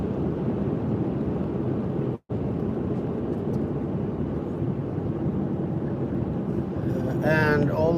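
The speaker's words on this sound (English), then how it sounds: "Yes, windy." Steady wind blasting across a phone microphone outdoors during a mobile stream, a constant low roar with one brief dropout partway through and a faint voice near the end.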